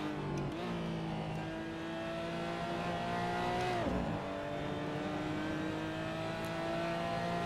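Steady engine drone from a car in the Assetto Corsa racing game, holding a fairly even pitch with brief dips and recoveries, heard quietly and alone throughout.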